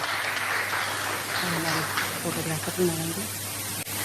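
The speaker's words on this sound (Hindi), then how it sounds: "प्लीज जोरदार तालियां उनके लिए भी।" Audience applause at a question-and-answer event: a sustained crowd clapping that fills the whole clip while someone speaks over it.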